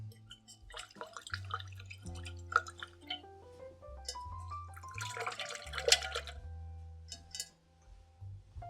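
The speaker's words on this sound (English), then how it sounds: "Rinse out my brush here." Paintbrush swished and rinsed in a container of water, with soft splashes and scattered drips and clinks alongside a tonal background line, fairly quiet and close, with no talking over it.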